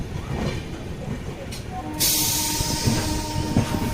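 A train bound for Puri Junction rumbles steadily along the rails with a constant low roar, and a hissing wash of noise swells in partway through.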